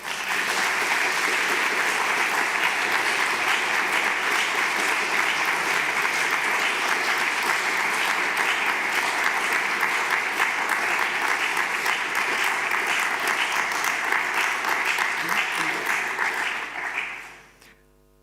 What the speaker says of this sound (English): Could you hear the applause?